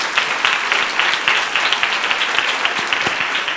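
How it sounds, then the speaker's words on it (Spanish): Lively audience applause at a children's reading-aloud contest, loud close clapping with individual sharp hand strikes standing out in an uneven rhythm, no speech over it. "Claro que sí, un aplauso."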